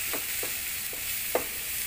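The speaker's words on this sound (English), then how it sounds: "Mix well and saute for 1 minute." Spices with cumin powder sauteing in a pan for a kidney bean rajma masala, a steady close sizzle with four soft spoon scrapes spaced unevenly through it, no voices.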